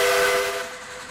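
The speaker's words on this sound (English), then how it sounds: "game froze and the whistle freaked out" A steam locomotive whistle from a Southern Railway 4501 in the Trainz train simulator game blares a bright, steady chime that fades out over about a second, heard alone.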